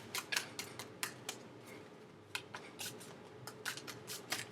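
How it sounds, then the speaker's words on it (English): Tarot cards being shuffled in quick bursts of crisp flicking and riffling, with short pauses between rounds and no talking. "Last shuffle."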